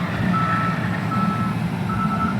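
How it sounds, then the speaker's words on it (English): Tonal backup alarm of a loader beeping at a steady rhythm over the low rumble of its heavy engine idling nearby. "You hear a backup alarm going."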